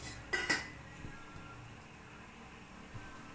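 A cooking pot is set down on a stovetop for a tempering of oil for sprouted green gram palya, giving a couple of close metallic clanks in the first half-second, then only a quiet kitchen hum with a faint knock later.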